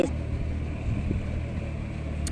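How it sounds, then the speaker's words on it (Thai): A steady, low tractor engine rumble drones on without a break, close and fairly loud, with no voices over it. "รถไถรถไถ"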